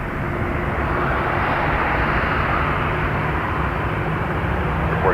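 Delta airliner on its takeoff run at Toronto Pearson, a loud continuous jet engine roar with a constant dense rumble and hiss, close and with no voices.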